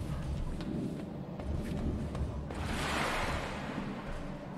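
Water sloshing and rushing in the dark sci-fi horror game Apsulov: End of Gods, a steady broadband wash that swells louder midway, with no speech over it.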